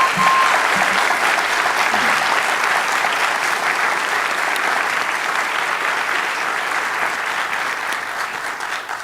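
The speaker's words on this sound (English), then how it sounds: "And one final round of applause for our debaters for the job they did tonight." A large debate audience applauds steadily for the debaters at the close of an evening debate on whether Jesus rose from the dead, dense and sustained for about nine seconds and tapering slightly at the end.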